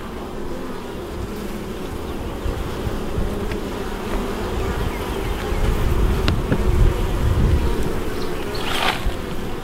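Honey bees buzz steadily and densely around an open hive during an inspection, a continuous close hum that swells slightly toward the end, with occasional handling knocks and no talking.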